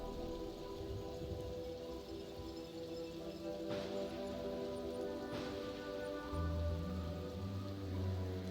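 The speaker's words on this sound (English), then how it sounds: "I like the rain." Steady rain falls in the video game Primordia, a constant close hiss of drops on surfaces that runs throughout, with a low droning tone swelling in near the end.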